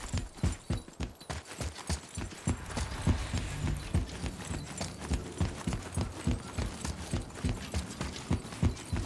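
Horse hooves in the game God of War, a steady rhythmic clip-clop of a walking horse, close and continuous, with no speech.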